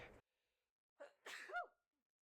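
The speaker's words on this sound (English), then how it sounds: "Excuse me, I just sneezed." A brief breath, then a sudden close sneeze with a sharp vocal burst, quiet otherwise and no talking.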